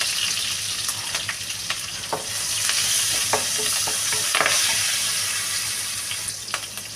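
Onions, green chillies, curry leaves and asafoetida fry in hot oil in a pan for Bisi Bele Bhaat, giving a steady loud sizzle with occasional stirring clinks and scrapes, no voices.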